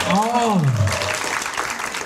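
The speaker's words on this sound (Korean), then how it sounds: "다시 한번 감사의 박수" A Korean studio talk show audience applauds after a guest's health lecture. A loud rising-falling exclamation from a voice opens the clip, then a steady wash of clapping follows.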